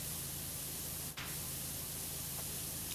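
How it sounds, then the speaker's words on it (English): A pressure washer with a 15-degree nozzle sprays continuously in the PowerWash Simulator video game, a steady hissing rush with a brief break partway through. "good old trusty 15-degree nozzle"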